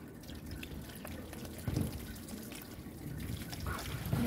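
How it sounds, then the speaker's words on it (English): Yams being washed under running water, a faint soft trickle and patter of water with small splashy bumps as the tubers are handled, close and quiet. "I just want to wash them off"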